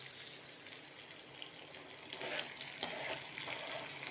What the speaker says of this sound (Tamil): சைட்லேருந்து கிளறி விடுங்க